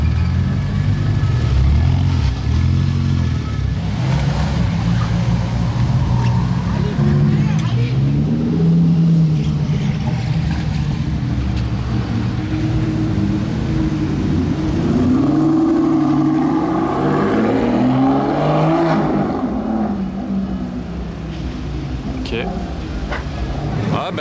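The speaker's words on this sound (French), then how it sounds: "on a une Dallara version Barchetta, donc une Barchetta de plus sur Monaco" Dallara Barchetta race car on the streets of Monaco, its engine revving and rising as it passes through the city amid crowd noise, with people talking throughout.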